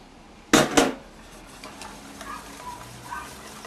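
Bacon goes into a hot pot for a pasta sauce: two sharp metallic clanks open, followed by a faint, continuous sizzle and soft stirring scrapes.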